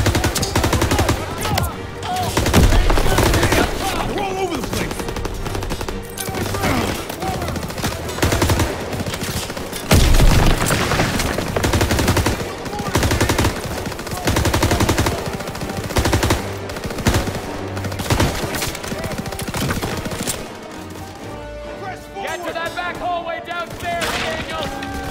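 Sustained machine gun fire and scattered gunshots from a Call of Duty WWII battle around a main staircase, loud and dense, with bursts running throughout and shouted voices over the shooting.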